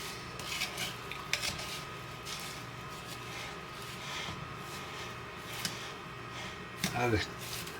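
Scraping out a mixing bowl while making a berry cobbler: soft, continuous rubbing and rasping of a utensil against the bowl, with a few sharper clinks and a louder scrape near the end, set against a low background hum.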